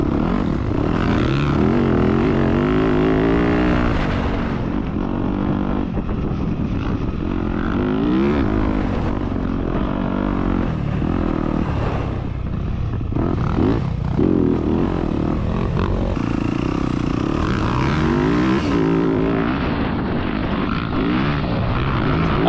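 Dirt bike engine with almost 80 hours and no valve adjustment, ridden around an oval track loop, running continuously with a deep, throaty low-end drone and rising and falling revs, loud and close throughout.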